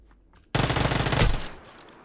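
Shotgun fire in the video game PUBG: a loud, sudden, dense burst of gunfire lasting about a second, then fading reverberation.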